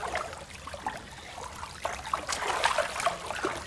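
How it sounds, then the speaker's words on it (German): Water trickling and splashing as it runs out, a soft irregular dribbling with small bubbling spurts, faint and close with no voices. "das Wasser läuft aus"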